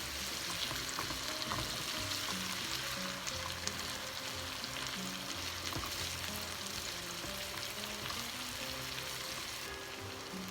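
Chopped onion sizzles and fries steadily in a pot as the base for a chicken sauce, a dense, even crackle with faint stirring that continues throughout without a break.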